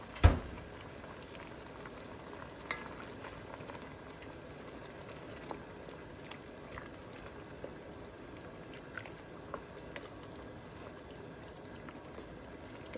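A pot of brown stew gravy with ketchup simmers quietly on the stove, a faint steady bubbling hiss with occasional soft pops throughout.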